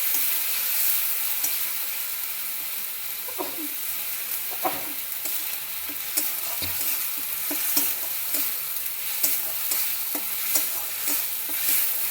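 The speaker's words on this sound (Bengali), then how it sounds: "মশলা ভাজানো হয়ে গেছে" Ginger and cumin paste frying in a pan for masala pasta, a continuous loud sizzle with occasional scraping stirs, close up and uninterrupted by talk.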